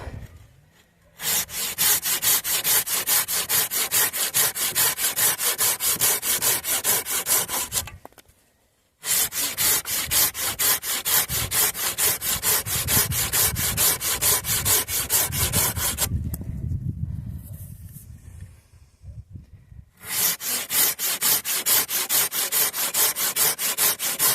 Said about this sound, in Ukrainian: вона пиляє дуже класно і швидко